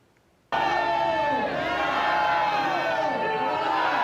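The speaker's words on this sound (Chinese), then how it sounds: "信众大声欢呼" A crowd of worshippers bursts into loud, sustained cheering and shouting at a temple reopening ceremony, a dense roar that starts abruptly and holds steady.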